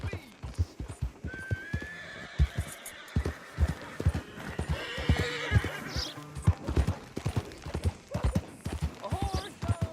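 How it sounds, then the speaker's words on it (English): In Red Dead Redemption 2, a horse runs through the streets of Valentine, hooves clopping in an irregular rapid rhythm up close, broken by a loud neigh and whinnying, while voices talk in the background. "A horse goes running the streets of Valentine."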